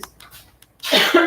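A person coughs a few times at close range indoors, short harsh bursts after a quieter stretch of breathing and small movements.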